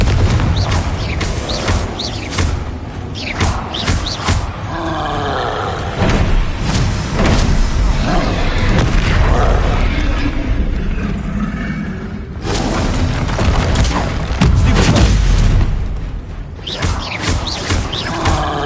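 Repeated booming blasts of the Confringo explosion spell in Hogwarts Legacy, loud thuds and slams in quick succession amid combat clatter, with faint voice in places.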